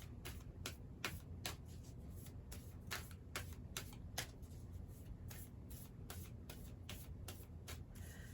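Tarot and Moonology cards shuffled by hand in a steady run of crisp, papery riffles and slaps, close and fairly quiet over a low background hum, with no talking.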